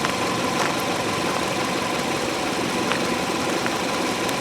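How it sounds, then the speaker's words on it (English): Engine of a 2004 Hyundai Elantra idles steadily nearby with the headlights on and the alternator under load, a constant mid-pitched hum with faint ticks and slight vibration. "I can hear that alternator kick in too."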